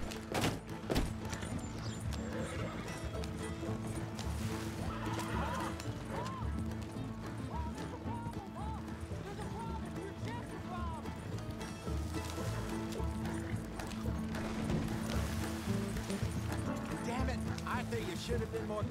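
Horses pull a stagecoach in Red Dead Redemption 2, with a rhythmic clip-clop of hooves and the rattle of the rolling coach over continuous game music, plus occasional whinnies throughout.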